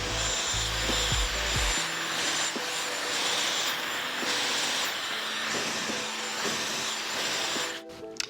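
A hair dryer blows a loud, steady airflow while drying hair for a blowout, its whine continuous and close with slight shifts in pitch as it moves, briefly cutting off near the end.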